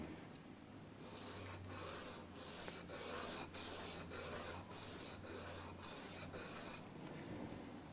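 Guitar pickup screws are rubbed flat against abrasive in a series of quick, rhythmic rasping strokes, close and fairly quiet, with no voices.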